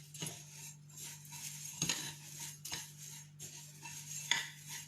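Spiced couscous stuffing seasoned with salt and pepper being stirred in a bowl, with soft scraping and clinks of a utensil against the dish at irregular intervals over a steady low background hum.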